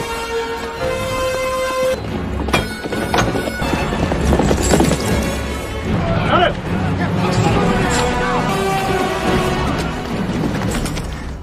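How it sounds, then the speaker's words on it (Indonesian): A mounted cavalry force of hundreds of horses thunders along with dense clip-clopping hoofbeats and occasional whinnies. The sound is loud and continuous and mixed with crashes and other dramatic sounds throughout. "pasukan berkuda yang jumlahnya ada ratusan"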